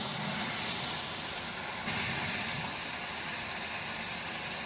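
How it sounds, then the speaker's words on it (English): A hot water sprayer blasts heated water in a steady, loud, broad hiss with a steamy rush, unbroken for several seconds and stepping slightly louder partway through, with no voices. "As you can see, it's starting to kind of steam."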